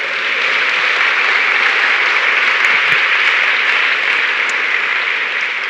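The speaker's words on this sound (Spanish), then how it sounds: "Dele un aplauso al Señor ahora" Congregation applauding in church, a loud, even, continuous roar of clapping that stays steady throughout with no pauses.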